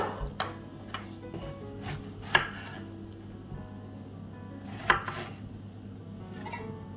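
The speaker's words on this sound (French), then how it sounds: "Vous la coupez en petits morceaux, petits cubes." Knife cutting a cored, peeled apple into small cubes on a board, giving a quiet series of irregular chopping taps with two sharper strikes among them and no voices.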